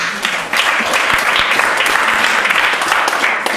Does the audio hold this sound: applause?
yes